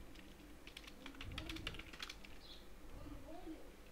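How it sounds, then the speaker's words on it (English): Fingers type text on a computer keyboard in a quick run of crisp, close keystrokes, densest in the middle, with a faint low voice in the background. "So what I'm going to type here is hello viewers"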